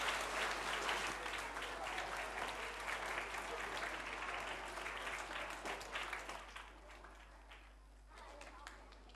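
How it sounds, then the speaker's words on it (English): Parents at an evening school show at an international school give a big round of applause that fills the room, dense and steady before thinning and fading near the end. "So please give yourselves a big round of applause too."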